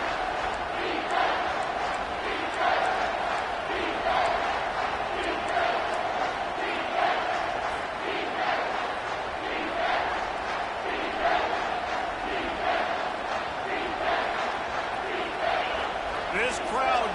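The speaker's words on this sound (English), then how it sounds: "This crowd knows when to bring it." Roar of a stadium crowd in an American football video game: a dense, steady wash of cheering and noise that continues without a break, with commentary heard faintly underneath.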